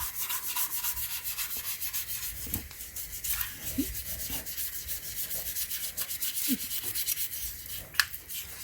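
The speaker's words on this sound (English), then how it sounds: "you want to make sure you rub it everywhere" Cleaning paste being rubbed over the surface of an old shower head, a steady close scrubbing texture with faint scrapes and one sharp click near the end.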